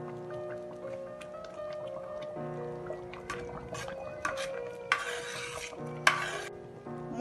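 Churanga payasam is stirred in a pan: soft scraping with scattered spoon clinks and short bursts of liquid swishing, over a steady tonal background hum.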